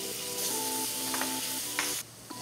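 Butter melts with garlic and onion in a pan, giving a soft, even sizzle that holds steady close by, with a few faint tonal clinks over it before it drops a little quieter toward the end.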